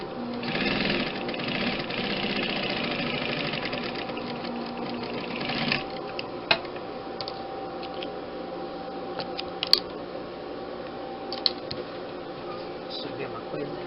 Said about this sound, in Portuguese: Teve pessoas que me perguntaram qual é a marca da minha máquina, é Protex.